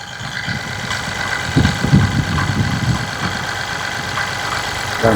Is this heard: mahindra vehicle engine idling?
yes